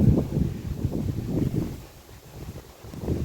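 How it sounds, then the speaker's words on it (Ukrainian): Strong wind buffets the microphone in low, gusty rumbles over a field being sown in Sumy region, Ukraine, rising and easing over a few seconds with no voices. "Дуже великий вітер"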